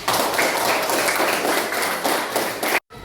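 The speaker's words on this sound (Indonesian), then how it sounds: "Tepuk tangan semuanya." A primary-school class claps together in a classroom, a dense, steady burst of hand claps lasting a few seconds at close range before cutting off abruptly.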